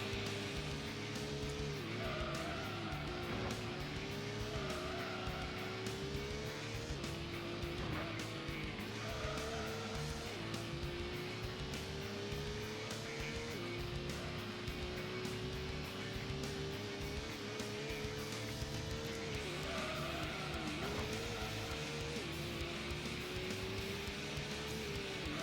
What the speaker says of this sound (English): So I'm going to brake heavily to avoid hitting the walls, hopefully.